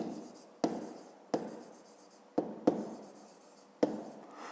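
A pen writes by hand on paper while a fifth-grade maths exercise is being worked out: a run of short scratchy strokes, each starting with a sharp tap and trailing off, close and distinct with no talking.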